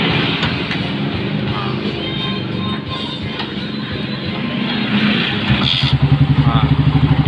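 A Yamaha Byson motorcycle engine, fresh from a piston replacement, catches after a kick start and settles into a loud, steady idle close by, with a sharper throbbing pulse building near the end.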